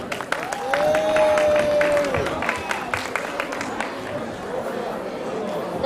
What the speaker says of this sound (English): Please welcome the participants with a big round of applause.